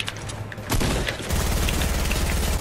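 Video game gunfire comes through as a close, dense fusillade of rapid shots that builds into a sustained, loud rattle of automatic fire.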